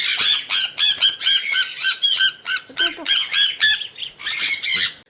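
Sun conure parrots squawk loudly and shrilly while being caught, in a rapid run of harsh, overlapping calls close by with hardly a pause.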